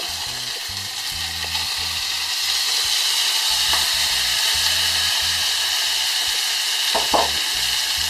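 Beef browns in a pan, giving a loud, continuous close sizzle with a steady hiss and occasional stirring clicks, with no talking.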